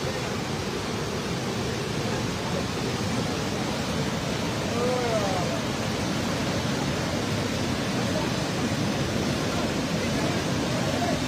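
Floodwater in Himachal Pradesh rushes past in a loud, steady, broadband roar that never lets up, with faint voices briefly audible beneath the torrent.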